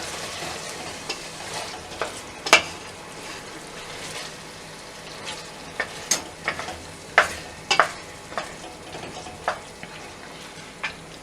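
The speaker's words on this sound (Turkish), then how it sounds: "Şimdi arpacık soğanlarımı koyuyorum. Onlarla da biraz pişecek. Kavuracağım." Shallots sautéing with chunks of meat stew in a pot give a soft, continuous sizzle, broken by several sharp scraping clicks of a spoon stirring against the pot.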